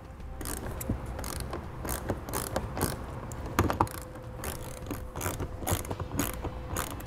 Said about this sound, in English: in each one of our wheel wells, on the outer edge where our fascia meets our wheel liner, we'll have four T15 Torx screws to remove